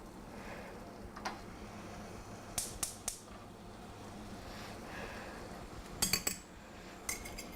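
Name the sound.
clinking fork and cutlery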